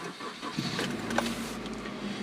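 A 1996–2000 Honda CR-V with its check engine light on cranks and catches, then settles into a low, steady idle, close by with no talk.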